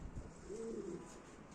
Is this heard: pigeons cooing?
yes